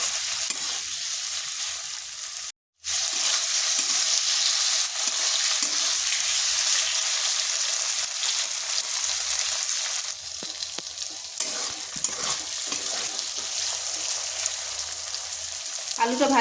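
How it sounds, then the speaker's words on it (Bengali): Boiled potato pieces fry lightly in a pan, giving a steady, close sizzle that runs nearly throughout, cut off only by a brief dropout near the start. "হালকা একটু ভেজে নিচ্ছি আলুটাকে।"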